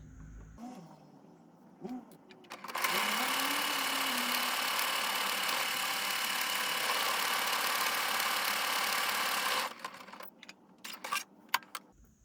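A sewing machine stitches a buttonhole on a kitchen towel with a loud, even whirring burst of about seven seconds, and a few soft clicks and handling sounds come before and after it.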